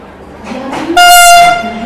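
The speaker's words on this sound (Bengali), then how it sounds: "নিউ দিল্লি থেকে কাটরা বন্দে ভারত এক্সপ্রেস চার নম্বর প্ল্যাটফর্মে কিন্তু ঢুকে যাচ্ছে" A Vande Bharat Express from New Delhi to Katra pulls into platform four of a railway station, sounding a loud, close horn blast of about half a second over rumbling train noise.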